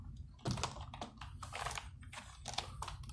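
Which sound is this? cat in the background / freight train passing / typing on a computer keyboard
typing on a computer keyboard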